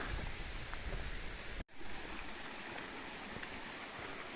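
A mountain river runs along the Grandval cascades trail in the Cantal, a steady broadband rush of flowing water that continues unbroken apart from a brief dropout early on.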